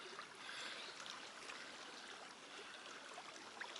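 The River Lug flows past a beach in a steady, close rushing and trickling wash of water, constant from start to end with no voices.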